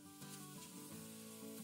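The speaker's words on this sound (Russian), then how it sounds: "На сковороде в масле обжариваю все овощи сразу." Mixed vegetables fry in oil in a pan, giving a close, steady sizzle with soft crackling bursts and no voices.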